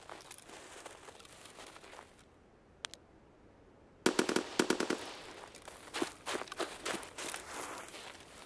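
Bursts of automatic machine-gun fire in the Escape From Tarkov game, rattling loud and close in several volleys with brief single shots and gaps, the heaviest rapid burst midway and scattered follow-up fire continuing to the end.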